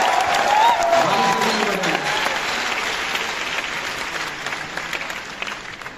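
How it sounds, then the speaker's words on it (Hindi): A large stadium audience gives loud applause, starting full and dense and slowly thinning, with a voice speaking briefly over the start. "जोरदार तालियां बताते हैं।"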